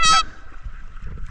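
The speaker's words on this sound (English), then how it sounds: "It's Fat Goose over here gonna eat everything." A goose at a remote lake lets out a single loud, nasal honk close by, followed by faint rustling and quiet background noise.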